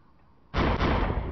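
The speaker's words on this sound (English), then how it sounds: "I just killed another guy with a Mosin." A Mosin rifle fires in a video game, one sudden loud gunshot blast that holds as a dense, sustained roar for the rest of the moment.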